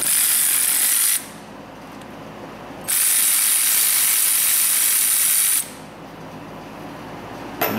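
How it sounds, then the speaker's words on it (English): A ratchet works a 10 mm cam journal bolt loose on a Toyota Camry engine, giving two long bursts of rapid, bright clicking separated by a quiet pause, then a brief final click. "We're gonna take the one cam journal off, 10 millimeter. You can simply loosen it."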